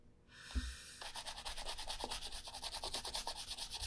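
A brush working wax into the welt and stitching of a new Florsheim Imperial shoe, close and quiet, with a soft rhythmic series of short rubbing strokes after a brief initial scrape.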